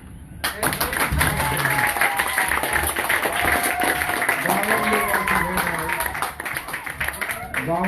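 An audience claps after a drama performance at a spiritual gathering, with sharp scattered claps running throughout, mixed with crowd voices and people talking nearby.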